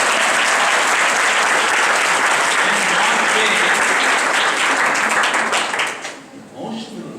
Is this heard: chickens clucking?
no